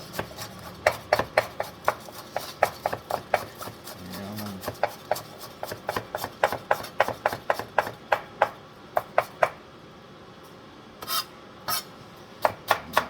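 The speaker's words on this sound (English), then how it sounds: "Prepare my scallion." Scallions are chopped with a knife on a board: a close, steady run of sharp, rhythmic taps that pauses briefly near the end, then resumes with a few more strokes.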